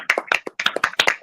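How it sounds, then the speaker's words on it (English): A few people clap close to the microphone for roughly a second, with sharp, distinct handclaps in a quick uneven rhythm rather than a full crowd roar. "We should give him a round of applause."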